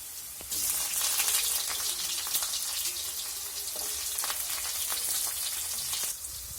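Onions dropped into plenty of hot oil with green chillies: a sudden burst into a loud, steady crackling sizzle that holds for several seconds and then eases slightly.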